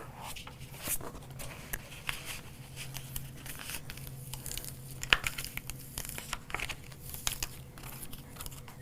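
Paper pieces peeled from a cutting mat during a paper centerpiece craft, giving a faint, steady run of soft crinkling and tearing rustles with a few small crisp clicks, close and quiet with no talking.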